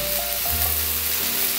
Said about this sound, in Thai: เสร็จแล้วใส่หมูสับลงไปครับ